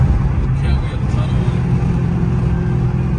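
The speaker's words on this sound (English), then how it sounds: "We gotta hear this car." A car is driven at top speed on a public road and gives a loud, unbroken engine and road roar that fills the whole stretch.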